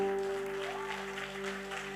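A church congregation claps and cheers in praise, a steady wash of applause beneath sustained keyboard tones and a low hum.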